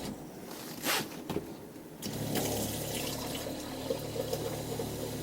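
Water starts running and pours steadily from a sink tap fed by a water pump in a camper van, after a couple of soft knocks and rustles, a continuous hissing splash close by.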